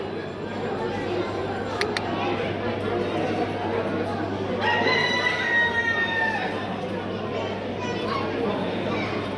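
Roosters crow at a poultry fair where champion birds are shown, one long crow standing out near the middle over a busy background of crowd chatter and children's voices.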